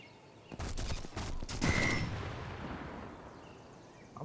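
Sniper rifle fire in Sniper Elite 4, a few heavy, booming shots in quick succession followed by a long reverberant tail and a faint metallic ring fading out.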